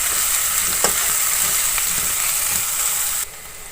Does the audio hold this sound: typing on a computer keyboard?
no